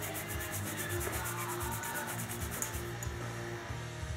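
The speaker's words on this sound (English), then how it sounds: "You can just give your pads a little polish up." Brake pads are polished by hand, rubbed against an abrasive during a brake service, giving a quiet, rhythmic scraping with repeated back-and-forth strokes and no talk.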